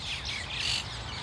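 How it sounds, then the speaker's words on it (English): Invasive mynah birds calling in Tel Aviv, Israel, a bright continuous chatter of overlapping whistles and chirps from several birds at moderate distance, alone with no voices. "This is the sound of mina birds that are, among other places, native to the Philippine island Palawan."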